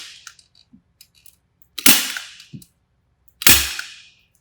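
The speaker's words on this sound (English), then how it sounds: "he'll staple the membrane to the side of the" Membrane stapled to the side of a timber joist: two sharp, loud snapping staple-gun shots about a second and a half apart, with light rustling and small handling clicks between.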